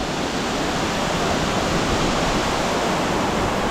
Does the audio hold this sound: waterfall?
yes